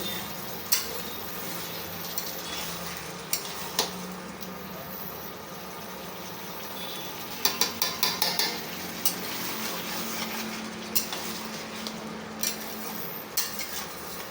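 Chicken sautéing in a pan, a continuous close sizzle with scattered sharp clinks and a quick flurry of scraping stirs, no voices over it.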